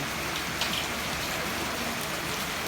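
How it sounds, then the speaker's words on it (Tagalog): Light rain falling steadily on surfaces, a continuous even hiss of drops, fairly close with no other sounds standing out. "Medyo na wala-wala na ang ulan."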